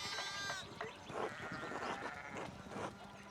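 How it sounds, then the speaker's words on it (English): Sheep bleat in the Pentiment video game, a few wavering calls spread through the stretch over faint farmyard ambience, fairly close, with no speech. "One of the fence rails fell and the sheep started hopping it."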